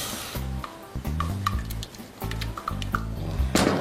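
Milk is stirred into flour in a pot with a spoon, making soft, wet swishing and scraping strokes in repeated short bursts, close and fairly quiet, with no talking.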